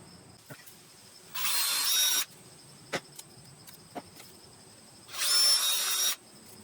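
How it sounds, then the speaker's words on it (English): Two bursts of a high-pitched power drill whine, each about a second long, drilling out a hole to fit a switch, separated by faint clicks and taps in a quiet room. "I'm going to have to drill this out to this diameter"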